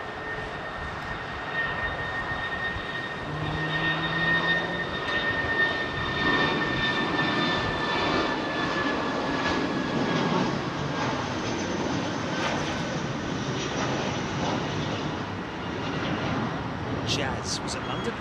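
A Boeing 747 jet at Heathrow runway 27R gives a steady, loud engine roar with a whining tone running throughout, heard from close range without a break.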